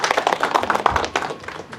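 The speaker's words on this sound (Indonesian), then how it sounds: "Untuk itu tepuk tangan buat Pak Dio." An audience claps for a speaker at an Indonesian campaign event: dense, fairly close clapping with rapid overlapping hand slaps, fading slightly toward the end.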